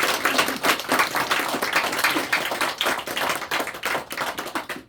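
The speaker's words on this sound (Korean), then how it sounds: "올 한 해 잘 부탁드리고 우리 박수로" Church congregation clapping during a Sunday morning worship service, steady dense applause throughout, fairly loud and close, with no talk over it.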